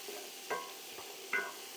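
Peppers frying in leftover bacon oil in a pan, a quiet steady sizzle with a few soft stirring scrapes.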